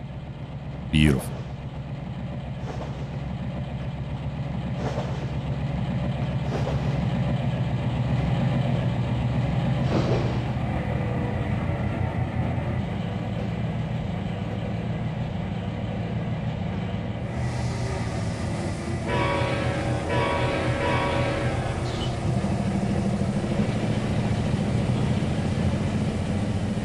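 Locomotive engine 1109 hums steadily at idle in the Trainz 2022 train simulator on the Tidewater route, a continuous low drone with occasional clanks, a brief sharp squeal near the start and a voice talking over it.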